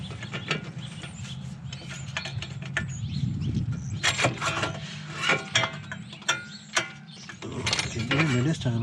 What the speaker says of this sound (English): then we'll start tightening bolts down